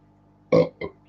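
Two burps in quick succession, a long loud belch followed by a shorter one, close to the mic over a faint low hum and no talking.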